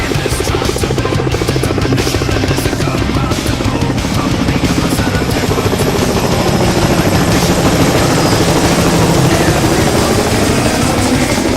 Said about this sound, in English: It's our private helicopter, you know, because we are VIP.